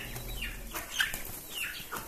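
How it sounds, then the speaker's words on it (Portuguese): Broiler chickens in a poultry shed give off a busy, low-level mix of soft clucking and wing rustling throughout, with no talking. "E aqui estão os frangos"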